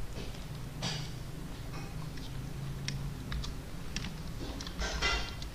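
Keystrokes on a computer keyboard while writing C# code in Visual Studio 2019, a steady run of light clicks in irregular bursts, close and fairly quiet, with no talking.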